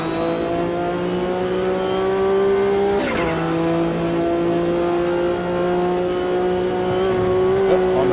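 A race car in the Automobilista 2 video game, a World Sportscar Championship car, spins its wheels out of a corner with a loud, steady engine whine, a brief shift dip, then sustained high revving.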